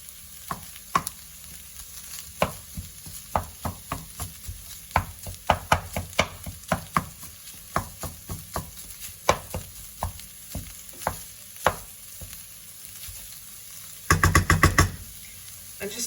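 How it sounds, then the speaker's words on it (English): A knife taps repeatedly on a cutting board, mincing ingredients for a plant-based chili in an irregular, close series of light knocks, with a quick rapid flurry near the end. "I'm just trying to mince it down as much as possible."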